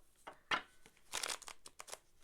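Tarot cards are shuffled by hand in a quiet room, giving soft, uneven riffling and crinkling flutters in short bursts, faint and close with no talk.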